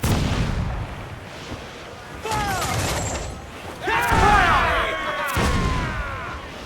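Ship cannons in the naval combat of Assassin's Creed IV Black Flag fire in heavy booming volleys. Rumbling blasts and whistling projectiles overlap across several seconds, with a dense battle din behind them.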